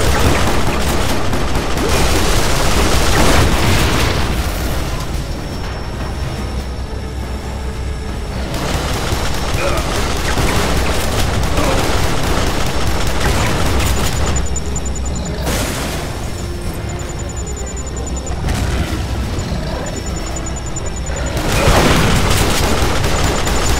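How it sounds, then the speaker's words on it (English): Pipe bomb blasts in Duke Nukem Forever come as repeated loud, booming explosions. Several large bursts stand out among rolling gunfire and rumble, with little talk. "whipping his pipe bombs again"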